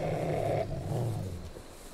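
Dogs growl and snarl in a Resident Evil fan-made remake video game, a low rumbling, continuous growl that stays loud and close before easing off toward the end.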